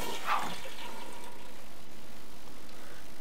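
A toilet flushing in The Sims 3, a short watery gush at the start tapering into faint running and refilling water, quiet and alone.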